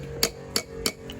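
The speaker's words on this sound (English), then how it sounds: "I just take my little hammer." A small hammer taps pins into a pewter bolster, three crisp, evenly spaced metallic strikes close up over a low steady background hum.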